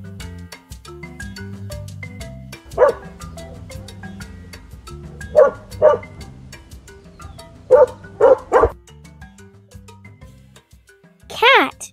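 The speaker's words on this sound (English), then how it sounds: "Dog." A dog barks several times in short, spaced bursts, with a pair of quick barks near the end, all over steady background music.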